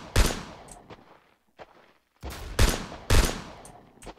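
Gunfire in Roblox Siege: loud, sharp shots in a short irregular burst, with bright cracks and brief tails, a quieter pause in the middle, then two more heavy shots close together near the end.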